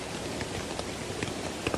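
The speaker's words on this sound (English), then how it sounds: "Super cosy in the rain." Rain patters steadily on a bivvy-bag tarp shelter at a woodland camp, a dense, even hiss of drops with a few louder taps close by.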